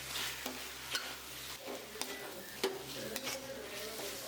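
Onions sautéing in a pan for mutton biryani, a steady low sizzle broken by the scrape and clink of a spoon stirring against the metal every second or so, close and moderately quiet.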